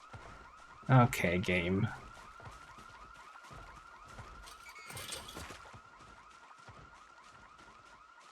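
A house alarm blares in a zombie survival video game, a continuous droning electronic tone running steadily under everything, while a voice speaks briefly near the start and a second burst of noise rises midway.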